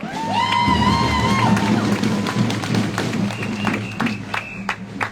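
Crowd at an outdoor Free Palestine rally in Melbourne applauds and cheers. Dense clapping runs throughout, a rising whoop stands out early, and a few sharper claps and shouts ring out near the end.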